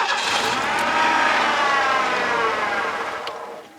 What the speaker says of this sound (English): put the key in the ignition, and let's start it up and see what happens